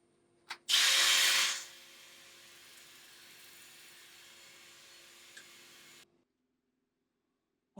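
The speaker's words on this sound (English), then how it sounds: "So what I have to do now is sand it, starting again with the 180." A wooden ogee bowl is sanded with 180-grit paper on the spinning lathe. It opens with a loud, hissy burst of abrasion, then settles into a steady, quieter whir that stops abruptly.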